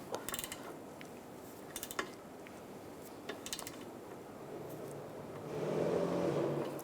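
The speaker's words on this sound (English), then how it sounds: "With a T20 socket, we're going to tighten this down and torque this to 35 inch-pounds." A T20 socket tightens a tire pressure monitor sensor on a 2007-2013 Chevrolet Silverado 1500, giving a few faint, sparse metallic clicks over a quiet workshop background, with a soft rising hum near the end.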